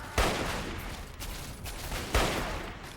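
Two sharp rifle gunshots in Fallout 3 crack out about two seconds apart, each with a loud broadband attack and a decaying tail over a steady game-ambience bed, with no talking.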